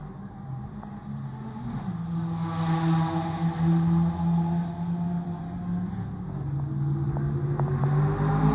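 Race cars circle the Nürburgring race track, a distant engine drone rising and falling in pitch as the cars pass, with a continuous rumble underneath.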